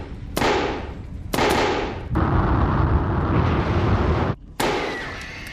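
Sharp explosive bursts crack out one after another, each followed by a heavy roaring rush of noise, loud and close, with a brief gap before the final blast.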